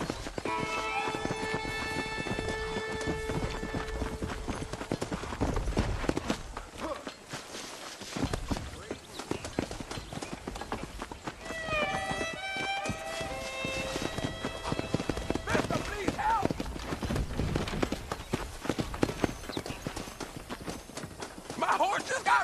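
Horse hooves clip-clop and gallop in Red Dead Redemption, a steady rhythmic drumming close by that runs throughout over game music, with a voice talking now and then.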